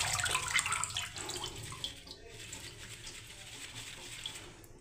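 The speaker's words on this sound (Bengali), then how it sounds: "দেখুন জলটাকে এবার ছড়িয়ে দিচ্ছি।" Water splashes and streams as it is poured off freshly washed pumpkin leaves, loudest in the first two seconds and then settling into a quieter trickle and drip.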